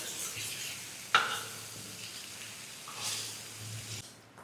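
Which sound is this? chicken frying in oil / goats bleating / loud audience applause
chicken frying in oil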